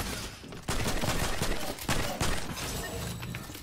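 Rapid bursts of weapon fire from a video game, dense crackling shots over a noisy, busy mix, loud and continuous with brief dips between volleys.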